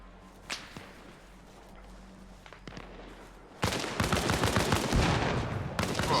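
Gunfire in the military shooter game Arma Reforger during a patrol contact, a few sharp isolated cracks and then a sustained burst of dense rapid shots that ends abruptly, loud and close.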